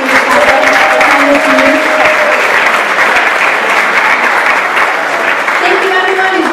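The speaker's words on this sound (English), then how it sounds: "Can we give a round of applause to the core team that's made this happen?" Loud, dense applause from an indoor audience at a talk, a continuous wash of many hands clapping close by, sustained and even throughout.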